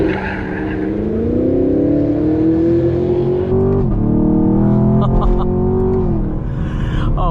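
A 6th-generation Chevrolet Camaro SS is driven hard, its engine note climbing and dropping through loud sustained revs with tire noise under cornering load, while a voice speaks briefly.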